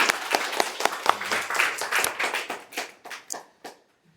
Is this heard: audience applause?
yes